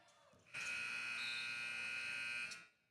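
End-of-quarter buzzer at a middle school basketball game, a single loud, sustained electronic blare lasting about two seconds, rising abruptly out of faint gym background and cutting off cleanly.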